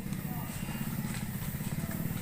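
Steady motorcycle engine running at a constant low drone throughout, close and moderately loud, with no distinct revving, on a ride through Kampung Hinai Kanan.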